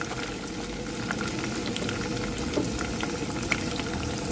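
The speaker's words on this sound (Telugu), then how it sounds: "పచ్చిమిర్చి వేగినాయి కదండి" Slit green chillies fry in hot oil in a South Indian tempering with chana dal, mustard seeds and curry leaves for tamarind pulihora, giving a steady close sizzle with a few sharper pops and no talking.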